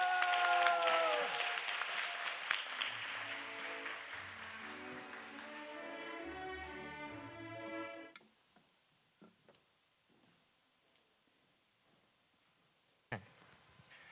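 Church congregation at a joint worship service applauding as the Costa Rica association president and returning missionaries come to the stage for a talk concert; sustained clapping mixed with music, then fading to near silence with a few scattered taps.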